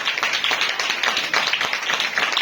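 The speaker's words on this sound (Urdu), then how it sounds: "ایک بار پھر سے تالیاں بجا دیجیے" A congregation at a Urdu-language church sermon gives a round of applause, close and lively, with many hands clapping in quick, uneven bursts that carry on steadily to the end.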